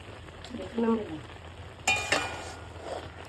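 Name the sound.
stirring grated coconut into cooked pumpkin curry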